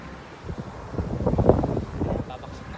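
Gusty wind buffets the microphone at a white-sand beach on Manila Bay during kite flying, a steady rushing roar that swells in the middle of the stretch.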